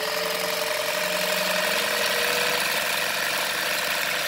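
An AT 2130 sewing machine zigzag-stitches denim, giving a continuous, even mechanical whir with a rapid steady beat that runs loud and unbroken throughout, with no talking.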